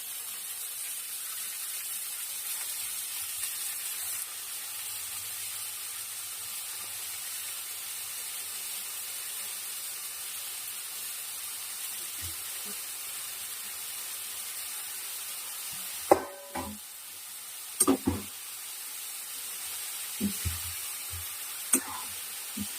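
Vasti greens tossed into hot spiced oil give a steady, soft hiss of frying, joined late by a few sharp clatters of utensils near the pan.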